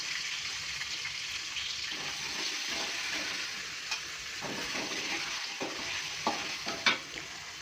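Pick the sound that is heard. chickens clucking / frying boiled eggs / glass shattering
frying boiled eggs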